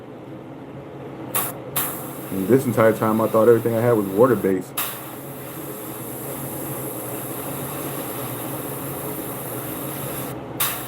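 A hissing burst from an airbrush spraying acrylic paint onto a stripped bass guitar runs for about two seconds, with brief sputters, followed by someone talking over a steady background hiss.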